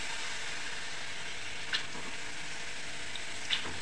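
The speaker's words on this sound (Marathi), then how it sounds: "आता मी भिजवलेली मूग घालत आहे" Soaked moong beans frying in oil with a roasted masala paste, a steady, soft sizzle with a couple of faint clinks from a utensil.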